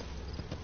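A horse's hooves clop in a quick beat under steady game background noise while the animal gallops in Metal Gear Solid V, fairly close and moderately loud.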